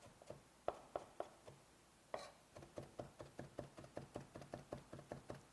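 Knife finely mincing the white part of garlic on a cutting board, a quiet series of sharp, fairly regular taps that starts sparse and then settles into a steady, even chopping rhythm.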